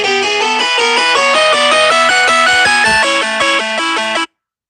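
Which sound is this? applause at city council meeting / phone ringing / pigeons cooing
phone ringing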